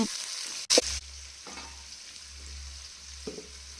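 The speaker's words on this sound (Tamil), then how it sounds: "ஒரு வெங்காயம் நல்லா ஸ்லைஸாக கட் பண்ணி போட்டுக்கோங்க. போட்டுட்டு நல்லா வதக்கி விடுங்க" Sliced onion sautéing in a pan for murungai keerai poriyal, a low steady sizzle with a sharp clatter near the start and occasional soft stirring scrapes.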